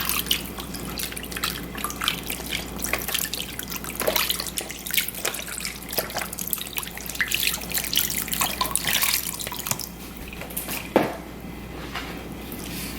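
Beef broth and coconut milk pour into a cooking pot for an oxtail stew, a steady close trickle and splash of liquid that runs on with a few brief drips and gurgles.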